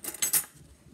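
A metal spoon and fork are set down one after the other in a repeating pattern on a surface, giving a few quick, bright clinks close by before the sound fades to near quiet.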